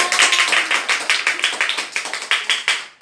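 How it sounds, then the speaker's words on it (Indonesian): A class of schoolchildren claps for a classmate named Safa, a dense run of quick, fairly loud handclaps lasting about three seconds before fading out at the end. "Ayo, tepuk tangan untuk Safa"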